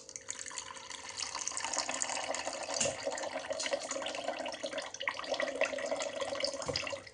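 Water poured into a pot of soaked sago, a continuous close splashing and running-water rush lasting the whole stretch, fairly steady with slight swells.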